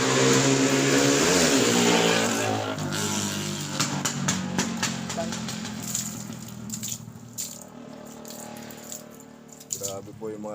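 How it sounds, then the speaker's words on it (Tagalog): Loud motorcycles roaring past a house, one engine note rising and sliding by up close, then fading into scattered lighter engine sounds and clatter. "Grabe po yung mga nadaan ditong motor. Talaga po, kahit po sa gabay, nakakabingi yan."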